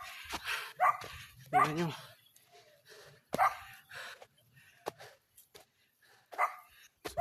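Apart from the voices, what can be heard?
dog barking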